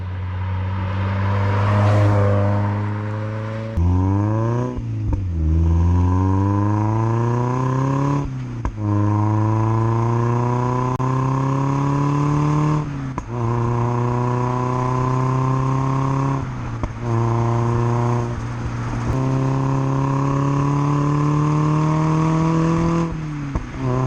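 Mazda MX5 BBR Super 200 on MeisterR Zeta CRD coilovers with a chassis brace, cruising at about 55 mph. A steady engine drone heard from inside the car rises in pitch and drops sharply at several gear changes.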